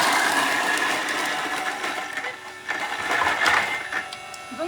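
A black Thermomix TM6 kneads dough for 15 seconds at speed 7, a busy whirring and knocking churn that rises and falls in texture, close and fairly loud, with no one talking over it.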